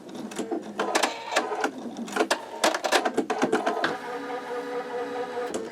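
An embroidery machine stitches a zigzag section of an in-the-hoop wallet: rapid mechanical needle chatter in bursts with short pauses, then a steadier whirring run toward the end, close and fairly loud, with no talk.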